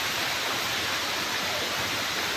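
A natural waterfall pours at Jatashankar Mahadev near Junagadh, a steady, dense roar of falling water that stays broad and unbroken, close and fairly loud.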